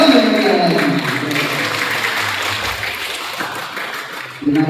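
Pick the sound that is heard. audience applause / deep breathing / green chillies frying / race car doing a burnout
audience applause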